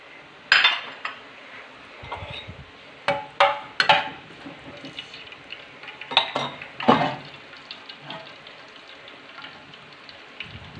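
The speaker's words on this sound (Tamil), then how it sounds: "எண்ணெய் காஞ்சிடுச்சுங்க. ஸோ நம்ம தாளிக்க வேண்டியதெல்லாம் போட்டுடலாம்." Spices for a green capsicum dish dropped into hot oil on a stove, giving scattered crackling pops and sputters with a few sharp metallic clinks of utensils against the pan, close by and with no talking.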